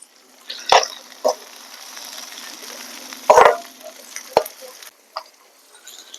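Chopped onion, green chillies and dry red chillies hitting hot oil in a pan, with a few sharp bursts of spattering sizzle separated by a quieter steady hiss, close up with no talk.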